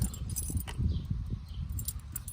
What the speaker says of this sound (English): Some skeleton keys.